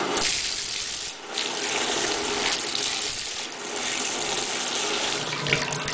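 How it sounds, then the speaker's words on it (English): Tap water pours over a bleached deep wave wig during rinsing, a continuous close splashing gush that shifts slightly as the hair moves under the stream, with no talking. "Alright, so there's the rinse."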